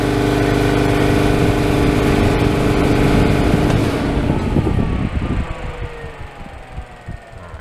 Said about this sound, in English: I'll go ahead and turn the air compressor on, and you can see the fan